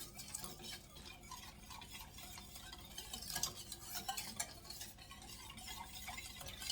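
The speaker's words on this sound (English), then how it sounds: "we're just going to stir this first before we even turn the heat on" A spoon scrapes and swirls through whole milk and cornstarch in a pan before the heat goes on, a steady, close, continuous stirring with light clinks against the pan, with no talk.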